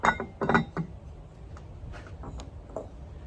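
A small greased 8-inch Dutch oven set down with a couple of close, clinking metallic knocks at the start, followed by quieter faint handling sounds.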